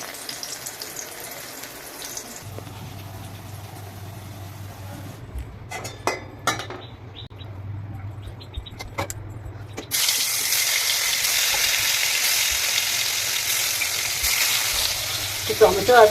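Food frying in a pan in a home kitchen with little oil, a steady, close sizzle with a few clinks of utensils. A louder hiss of water or frying fills the final seconds.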